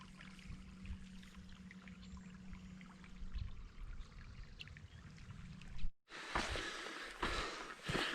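Creek water babbles and trickles steadily on the Pacific Crest Trail near Soledad Canyon, fairly faint, with a brief dropout before the flowing sound returns brighter and splashier.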